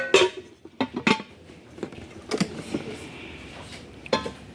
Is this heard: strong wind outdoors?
no